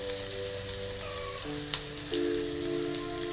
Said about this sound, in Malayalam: അപ്പം അതിലേക്ക് നമ്മൾ ഇതാ വെളുത്തുള്ളി ഇഞ്ചി പേസ്റ്റുകൾ ഇടുകയാണ്.